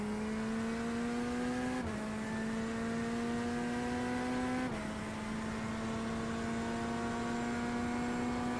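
A race car engine in the iRacing sim screams at full throttle with a steady, high-pitched harmonic drone, broken by two quick upshifts as it climbs through the gears, with no talk over it.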